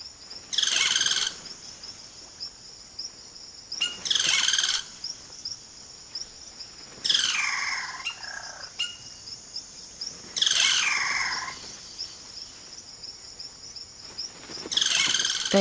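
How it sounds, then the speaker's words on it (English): Cacique birds in the Amazon call in repeated bursts roughly every three seconds, loud liquid whistles and chattering notes over a steady high insect hum. "The cacique males now go about the important business of attracting a partner by puffing up their plumage and showing off their remarkable vocal range."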